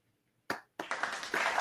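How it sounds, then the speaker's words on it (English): A baseball broadcaster claps for Dominguez during a Royals versus Yankees game: a single sharp clap, then a short, close run of quick handclaps that continues to the end. "we're going to give Dominguez a clap here"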